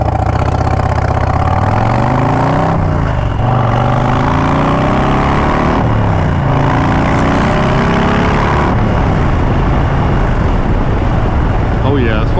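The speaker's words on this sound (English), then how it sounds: "That's a big engine." A large, nearly 2000 cc Harley-Davidson Low Rider ST motorcycle engine idles and revs steadily throughout, its deep rumble rising and falling in pitch, with a voice talking over it.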